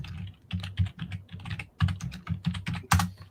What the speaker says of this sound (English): your keyboard is the loudest keyboard I have